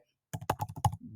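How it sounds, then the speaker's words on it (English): A computer keyboard clatters through a quick burst of about nine close, crisp keystrokes in under a second, followed by a soft lower rustle. "let me type it here"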